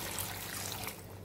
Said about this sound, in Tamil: இப்போ தேவையான அளவு வந்து நம்ம வந்து காய் பருப்பெல்லாம் வேகிறதுக்கு தேவையான அளவு தண்ணி விட்டுக்கலாம்.